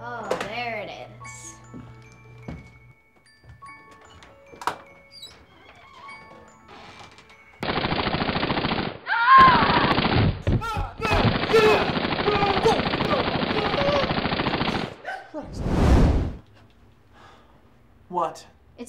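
Sustained burst of rapid automatic gunfire indoors, a dense roaring stretch broken by a short pause and followed by a final blast, with speech and shouting before and after.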